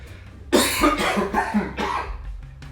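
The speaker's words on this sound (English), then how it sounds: "That is a flower down the windpipe cough." A person coughs hard after flour went down the windpipe, a burst of about four harsh, rasping coughs in quick succession, loud and close, with a low hum underneath.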